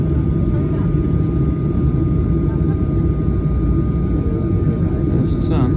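A passenger airplane on the runway gives a loud, steady low engine roar heard from inside the cabin, constant throughout with no clear voices.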